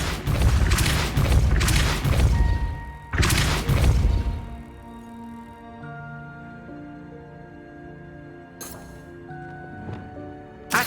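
Depulso spell cast in Hogwarts Legacy on PS5: two loud, booming magical blasts in quick succession, then lingering tonal shimmering magic effects and a faint later impact.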